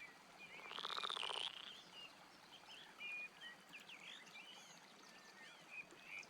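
Frog croaks and chirping calls, likely frogs, by a rocky riverbank in the game Roadwarden, with a louder burst near the start and then scattered faint calls over a quiet ambient background.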